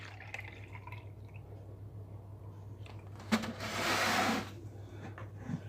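Milk pours into a cup for a pancake batter, a soft steady liquid rush lasting about a second over a low steady hum, with a few faint clinks and taps around it.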